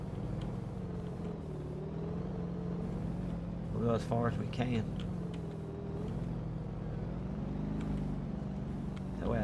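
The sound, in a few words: car driving in the video game DayZ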